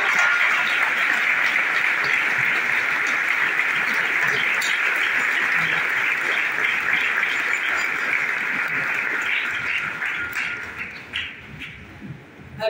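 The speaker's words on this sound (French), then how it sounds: "Avec des acclamations, nous disons merci pour la vie." Loud, sustained applause and acclamations from an audience gathered for a celebration of a religious sister in Abidjan, a dense continuous roar of clapping that thins out toward the end.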